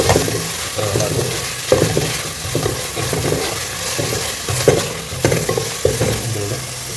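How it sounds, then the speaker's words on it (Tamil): A kilo of mutton sautéing in butter in a pot for Dindigul biryani gives off a loud, steady sizzle and bubbling, broken by periodic scraping stirs, with no talking. "இந்த வெண்ணெயிலே கொஞ்சம் வதங்கணும்"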